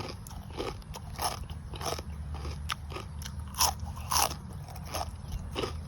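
Crispy pork rinds bitten and chewed close up, a run of sharp, loud crunches and crackles in irregular rhythm over a low background rumble, with no talk.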